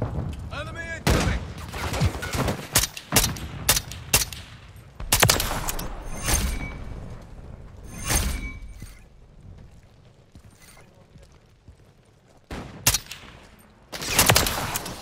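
Rapid bursts of gunfire from the video game Modern Warfare 3 crackle through a busy firefight, loud sharp volleys repeating across the scene with brief lulls between them.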